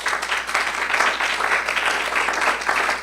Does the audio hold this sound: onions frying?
no